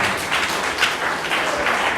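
Guests at a civil wedding ceremony applaud a couple, a continuous dense wash of many hands clapping at moderate loudness.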